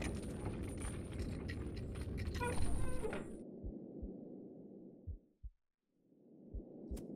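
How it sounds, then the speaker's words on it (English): A horror video game heartbeat effect set at a sacrificial platform: after a stretch of busy game noise, deep muffled thumps land in paired beats, fading briefly before resuming. "I hear a heartbeat."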